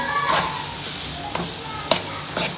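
Nuts and raisins being stirred into sizzling banana halwa in a pan, a close frying hiss under a few sharp scraping strokes of a spoon against the metal.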